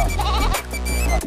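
A sheep bleating sound effect, a loud, close, wavering bleat lasting about a second, with a brief break partway through.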